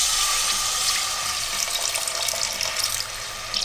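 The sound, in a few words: pouring tamarind water into a pressure cooker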